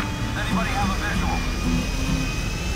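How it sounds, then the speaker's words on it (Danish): A large airplane passes in GTA 5 with a steady, loud jet engine roar that fills the whole moment. Faint game tones drift over a constant wash of rumble. "Åh shit, der går en stor fly der!"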